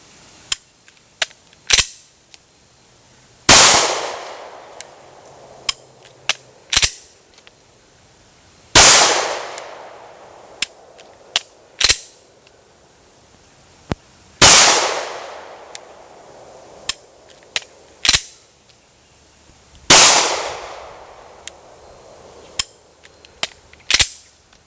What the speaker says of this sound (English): This one is alternating snap caps and live ammunition.